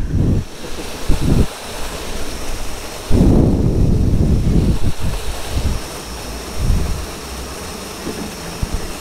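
Steady rushing wind and road noise with heavy rain, broken by several louder bursts and gusts, while riding a motorcycle through a downpour on the way to Manang, Nepal.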